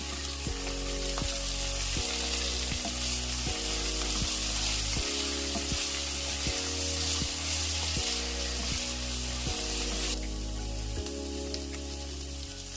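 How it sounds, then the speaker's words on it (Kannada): Chopped coriander and mint leaves fry in hot oil for a mutton masala curry, making a dense, continuous crackling sizzle throughout, with low rhythmic background music pulsing beneath and no speech. "ಈಗ ಇದಕ್ಕೆ ಕೊತ್ತಂಬರಿ ಸೊಪ್ಪು ಮತ್ತು ಪುದೀನ ಸೊಪ್ಪು ಇವೆರಡನ್ನು ಸಣ್ಣದಾಗಿ ಹಚ್ಕೊಂಡು ಹಾಕೋತಾ ಇದ್ದೀನಿ."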